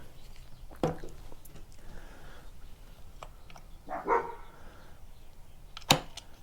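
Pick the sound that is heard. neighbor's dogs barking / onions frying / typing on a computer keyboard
neighbor's dogs barking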